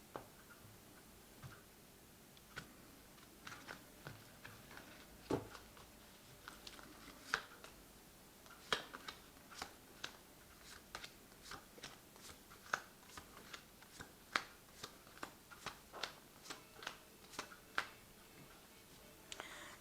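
Tarot cards from a deck being shuffled and drawn, heard as a soft run of faint, irregular ticks and snaps, close and quiet with no talking.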